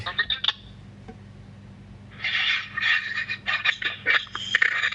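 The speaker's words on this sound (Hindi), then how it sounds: "मिश्रा जी मोबाइल की आवाज बंद करो भाई" A mobile phone sounds with a bright, warbling electronic tone that starts after a short pause and continues in repeated pulses, loud and close, following a brief burst of talk.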